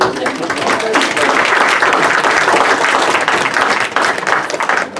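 A city council meeting audience breaks into loud, dense applause that holds steady for several seconds before thinning out, with some voices mixed into the clapping.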